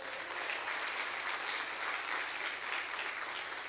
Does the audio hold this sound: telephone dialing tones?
no